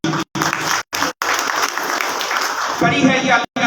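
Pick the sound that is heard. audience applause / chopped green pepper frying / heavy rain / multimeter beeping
audience applause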